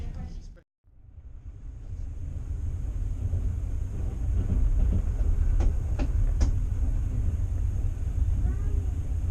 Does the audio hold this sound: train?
yes